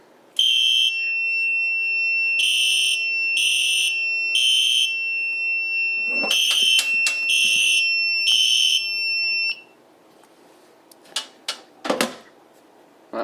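A Firelite MS-4 fire alarm system sounds after a smoke detector test: a shrill electronic horn tone repeats in short pulses, then stops, followed by a few clicks and handling noises.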